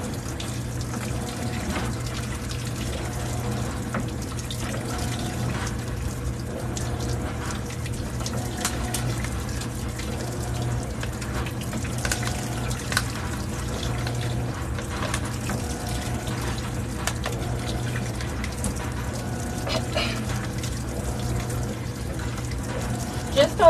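A GE washing machine fills with recycled water from its own tub, a steady rushing and gurgling stream of water running without pause, with soft indoor background sound.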